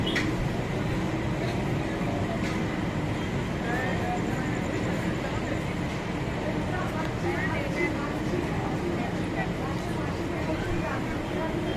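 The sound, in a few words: local train passing Sheoraphuli Junction station, Howrah–Bardhaman line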